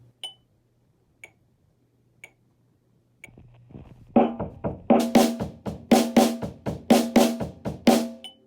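Kick and snare drum pattern played after a few metronome clicks, one snare hit followed by two kick hits, repeating in a quick, steady, punchy rhythm, loud and close.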